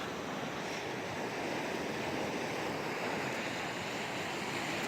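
Dairy Creek flows past a campground in Oregon as a steady, broadband rushing wash, constant and fairly close, with no voices or other sounds over it.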